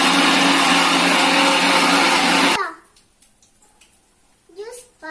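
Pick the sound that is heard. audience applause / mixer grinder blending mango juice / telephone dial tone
mixer grinder blending mango juice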